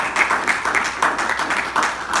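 A small audience at a Toastmasters club meeting claps in a brief, uneven patter of individual hand claps, moderately close, with no talking over it.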